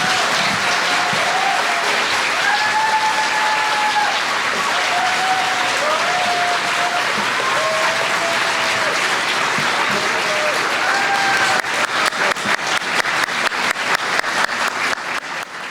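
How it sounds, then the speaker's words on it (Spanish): Sustained audience applause fills a book presentation hall for about fifteen seconds, steady and dense, with scattered individual claps growing more distinct toward the end as a voice or music tone drifts faintly beneath. "para quien pido un fuerte aplauso, por favor"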